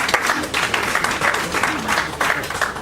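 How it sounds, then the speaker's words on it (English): Audience at a book launch luncheon breaking into sustained applause, dense even clapping from many hands with slight swells, fairly close and loud throughout. "A big round of applause, ladies and gentlemen"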